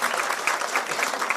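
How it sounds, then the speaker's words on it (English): Audience applause fills the room, a dense, steady wash of many hands clapping at close range with no pauses. "Let's give them a big round of applause"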